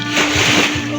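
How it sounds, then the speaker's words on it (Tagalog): An ocean wave at a beach resort washes over a swimmer, a close, loud, rushing slosh and splash of water lasting about a second. "Si Justin tinamaan ng alon."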